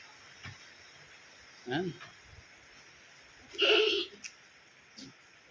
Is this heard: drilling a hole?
no